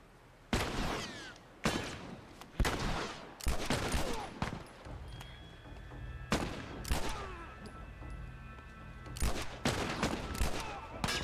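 Gunfire in The Last of Us Remastered: sharp, loud shots fired in spaced single bursts and quick clusters across the stretch, with faint game ambience in the gaps between them.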